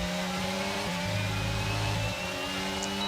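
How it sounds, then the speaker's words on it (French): A Formula 1 car engine in the F1 22 racing game runs as a steady, loud, high-pitched drone with a shifting tone, heard continuously through the short stretch and without speech. "On se rapproche dangereusement de la monoplace de Norris"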